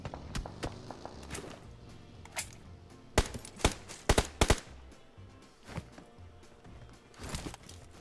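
Gunfire in a battle-royale shooter during a one-against-three endgame fight: sharp, loud shots scattered across the stretch, with a tight cluster of bursts in the middle, over a steady bed of in-game ambience and soft footstep-like thumps.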